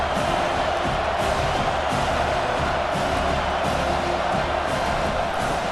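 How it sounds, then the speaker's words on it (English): Stadium crowd in a college football game, Oklahoma against Auburn, a dense, steady roar of cheering that fills the whole stretch at high volume with no pauses. "This crowd knows when to bring it."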